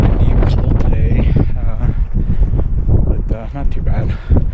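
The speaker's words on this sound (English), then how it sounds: "It's windy and cold today" Strong, cold gusty wind buffets the microphone in heavy rumbling bursts at an early-morning backpacking camp in Peru's Huayhuash Andes, with speech partly audible underneath.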